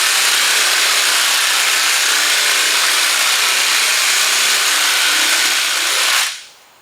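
Steady abrasive hiss of sanding body filler on a collision-damaged car panel, loud and continuous for about six seconds before stopping abruptly, with no talking.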